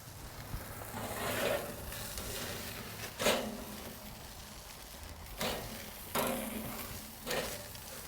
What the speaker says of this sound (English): It can take some more searing.